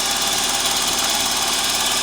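A VAZ 2109 engine idling with its hydraulic lifters tapping, a steady fast ticking over a broad mechanical hum, close and continuous without any voices.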